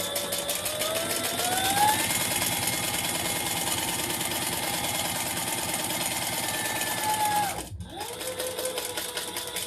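Sewing machine stitching diamond-quilted fabric, a steady fast mechanical whirr and rapid needle chatter running continuously up close, stopping briefly near the end before resuming.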